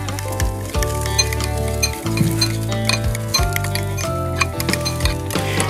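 A spoon stirs a burger dressing with a teaspoon of mustard in a bowl, making loud, close scraping and clinking strokes in a repeating rhythm with no talking.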